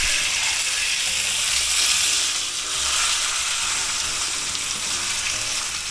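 Thick sous vide chuck steak searing in a pan just after being flipped, a strong steady sizzle and crackle close up with faint clicking underneath, no talking.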